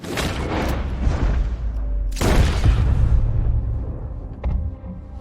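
A gunshot from a revolver or pistol fired in Red Dead Redemption 2: two heavy booming blasts a couple of seconds apart with long rolling tails. Game ambience runs underneath.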